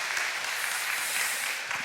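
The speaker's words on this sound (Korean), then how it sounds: "우리 또 축복하며 박수하도록하겠습니다" A congregation at a Friday prayer service applauds to welcome and bless its young people, with steady, even clapping from a small crowd at moderate volume and no voices.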